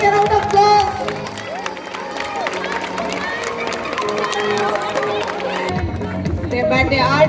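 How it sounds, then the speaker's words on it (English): At a pre-primary school sports day race, a crowd cheers and claps amid busy chatter while children run. Tonal, sing-song voices carry over the noise throughout. "Giving a round of applause."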